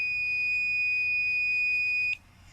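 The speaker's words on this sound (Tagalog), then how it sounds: "Naririnig nyo ba yon? Yung tunog? Yung multitester kapag tumunog," Analog multitester giving a steady high-pitched electronic beep while a power cord is tested, held for about two seconds and then cut off abruptly, close and clear with no talk.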